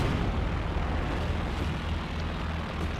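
Heavy, rumbling battle noise in Company of Heroes 2 as a shot destroys an enemy tank's main gun, a dense low roar of explosions and artillery filling the whole stretch without talk.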